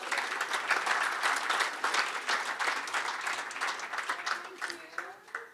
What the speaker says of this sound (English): Give Sam a round of applause.